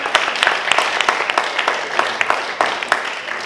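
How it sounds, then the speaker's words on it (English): An audience at a home tour preview event claps in a steady round of applause, dense hand claps with sharper individual claps standing out, moderately loud and continuous throughout. "I think this applause backs that up"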